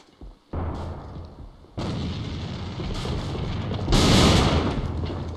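Rifle gunfire from M4 and XM8 rifles rattles through a competitive AVA shooter match, with dense, sustained bursts of shots that build to a louder, harsher volley near the end.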